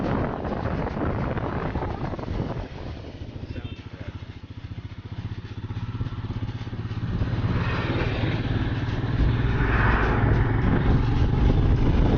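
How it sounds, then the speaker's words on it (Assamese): A motorcycle rides through a busy town on a main road, its engine droning steadily under heavy wind buffeting throughout, with traffic around. "একদম ভাও লাগি গৈছে বাইক চলাই"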